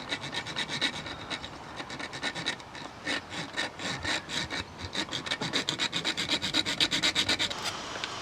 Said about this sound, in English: So we've cut our pipe down now.